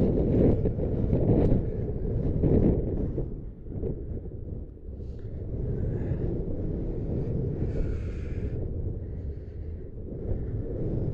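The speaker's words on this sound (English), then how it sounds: "Very, very windy out." Strong wind buffets the microphone in continuous roaring gusts at a boat ramp on the Merrimack River in Nashua, with faint higher whooshes drifting through at times.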